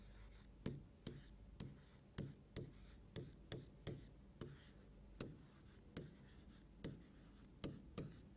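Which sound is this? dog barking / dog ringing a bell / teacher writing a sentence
teacher writing a sentence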